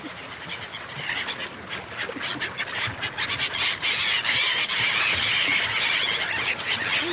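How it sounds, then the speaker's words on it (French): Ducks honking and squawking, a flock of repeated harsh calls that swell and overlap, fairly loud and growing denser toward the end. "Les canards."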